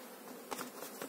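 Honey bees fly around a hive, giving a faint, continuous buzzing drone with a few slightly louder passes close by.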